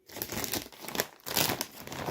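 Empty ketchup-flavoured snack bags are crinkled and crumpled up close in loud, crackly bursts, with brief pauses between handfuls of plastic rustling.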